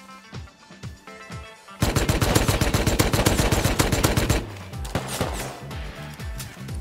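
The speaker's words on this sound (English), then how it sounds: "I might be able to shoot them in the back." Gunfire in the survival video game Rust: a sustained burst of rapid, loud automatic shots with quieter single shots and game sounds before and after.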